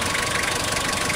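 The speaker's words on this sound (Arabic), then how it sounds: "يعني موتور ممتاز حسوا نظيف" A Nissan car engine idles smoothly and cleanly, a close, steady, continuous mechanical hum with an even vibration and no voices over it.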